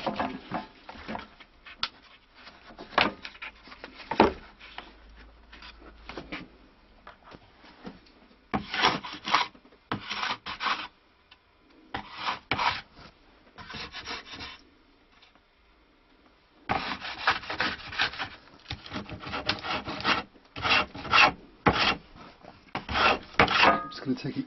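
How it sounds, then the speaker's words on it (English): Wooden dulcimer linings being leveled to the sides by hand, with intermittent rasping and rubbing strokes in bursts, separated by quiet pauses, close and moderately loud. "we're just going to gradually level the linings to the sides"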